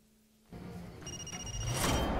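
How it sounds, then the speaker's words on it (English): A phone rings in the video game Far Cry 2, a faint electronic ringing tone that rises over low game ambience and builds louder toward the end. "Oh, got a phone call."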